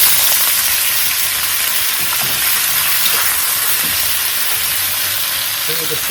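Chilli and belly pork stir frying in a hot pot, a loud steady sizzle with scattered stirring clatter, continuous and close throughout.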